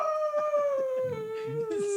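A person imitates a wolf howl, one long sustained wavering cry held for about two seconds, loud and close, falling slightly in pitch toward the end.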